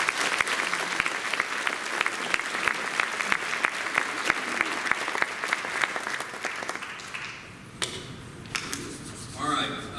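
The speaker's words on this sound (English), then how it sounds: "join me in giving each of you a round of applause for another successful year of growth and continued focus on student success." Audience at a college convocation breaks into loud, dense applause with sharp individual claps that hold for about seven seconds before thinning out into scattered claps and room noise.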